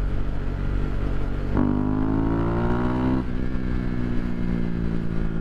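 A KTM 390 Duke single-cylinder motorcycle hums steadily at highway speed while being ridden, with a short rise in revs partway through and wind roar underneath.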